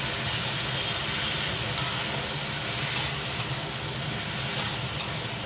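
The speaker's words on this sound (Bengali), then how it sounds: "করতে থাকি এখন কষে কষে যখন মশলাটা গায়ে লেগে লেগে যাবে তখন জল ঢেলে দেবে" Spice paste of ground ginger, cumin and coriander with vegetables sizzling steadily in a pan for a thin fish curry, a continuous close hiss with a few faint scrapes of stirring.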